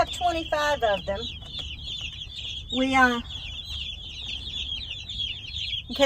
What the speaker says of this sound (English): these are Cornish Cross. They're a meat bird that's typically used.